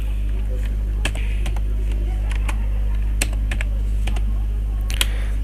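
Scattered keystrokes on a computer keyboard, sharp close clicks arriving irregularly in small clusters over a steady electrical hum, with no talk.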